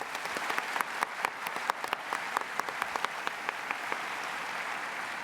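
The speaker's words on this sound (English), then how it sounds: "let's give them a big round of applause" Steady applause from a large audience at a conference opening ceremony, dense clapping with sharp individual claps standing out, sustained at even volume throughout with no talk.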